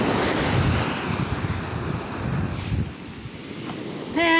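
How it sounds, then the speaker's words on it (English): Ocean waves surging and breaking onto North Beach at Port Townsend, a rolling roar of surf mixed with buffeting wind noise on the microphone, ending with a brief high tonal sound. "waves."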